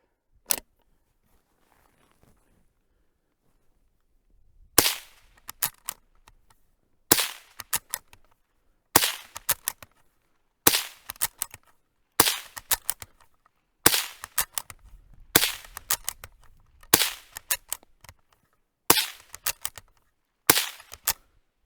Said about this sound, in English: so let's pop off these 10 rounds